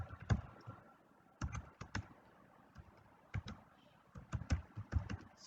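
Quick bursts of keystrokes on a computer keyboard, tapped in short irregular clusters with brief pauses between them, close and fairly quiet, no voices.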